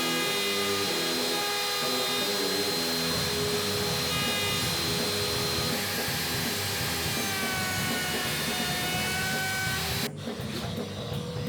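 A handheld router with a flush-trim bearing bit shapes a wooden electric guitar neck against a template, giving a loud, steady, close high-pitched whine with a grinding undertone that cuts off sharply near the end.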